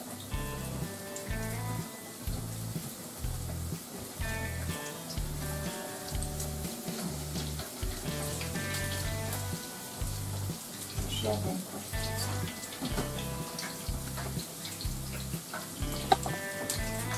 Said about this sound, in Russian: И жарим на среднем огне.